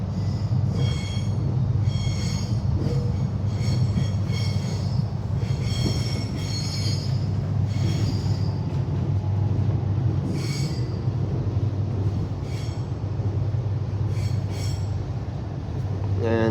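A Melbourne Belgrave line train pulls into Belgrave station with a continuous low rumble from inside the carriage and repeated high-pitched wheel squeals as it slows.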